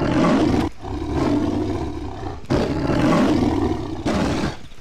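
A tiger in the video game Far Cry 3 lets out three long, loud, rumbling roars, each separated by a brief drop, close and dominant with no talking over them.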